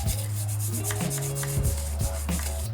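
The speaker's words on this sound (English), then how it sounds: "used a spark plug brush to kind of scrape all the residue off" A spark plug brush scrapes residue from an engine head on an RB25DET, quick rough rubbing strokes repeating close up with a low motor hum underneath.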